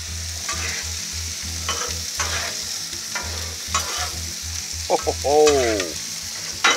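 Steak and shrimp sizzling on a Blackstone griddle, a steady close crackle running throughout, broken by scraping and stirring strokes and a few brief voiced exclamations.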